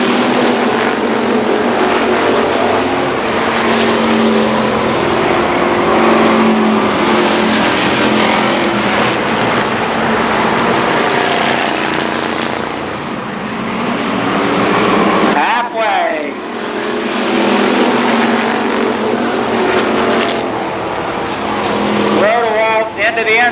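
Super late model race cars roar around Columbus Motor Speedway, a loud continuous engine drone with cars passing close, the pitch sweeping as they go by, under an announcer's running commentary.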